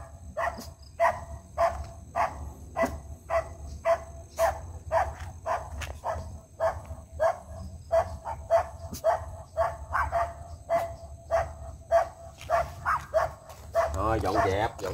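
A tied-up dog barks fiercely in steady, repeated loud barks at middle distance, with a high whine underneath and a brief rustle at the end.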